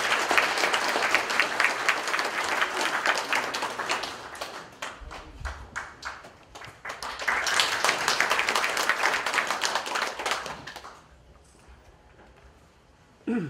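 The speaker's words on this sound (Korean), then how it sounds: "큰 박수로 맞아주시고" An audience at a Korean American association general assembly applauds to welcome a keynote speaker: sustained hall clapping in two long bursts with a short lull between, fading out near the end.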